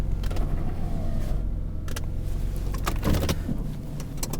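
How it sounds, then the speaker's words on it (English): An electric window motor hums as the glass closes on a 1989 Jaguar XJS V12 convertible, a steady whir with a few soft clicks and creaks near the end, heard close inside the car. "And then I'll close the window here."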